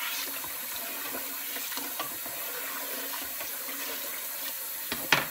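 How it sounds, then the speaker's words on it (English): Rice is rinsed in a sink bowl under running water for fried rice, giving a steady close wash of flowing, sloshing water with a sharper splash near the end. "By the time you have rinsed it well enough, the water will be clear enough when you see the rice."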